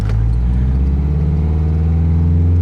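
A diesel Mercedes engine runs in a parking lot with a heavy, low rumbling idle that rises into a sustained rev, a loud and close steady drone with some clatter and no talk.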